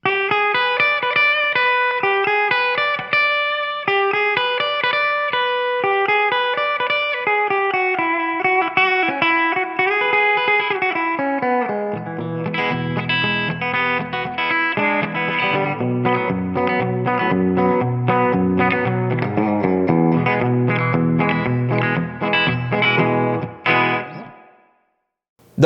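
Electric guitar plays a twangy country line through spring reverb and clean-tone pedals, bright picked notes moving into fuller chords and bass runs, loud and continuous before ringing out at the end.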